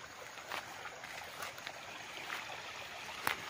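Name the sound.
stream flowing through a farm lot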